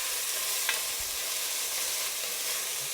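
Garlic sautéing in a pan for a fish stew, a steady, fairly quiet hiss of frying oil heard alone, with one faint tap of a utensil.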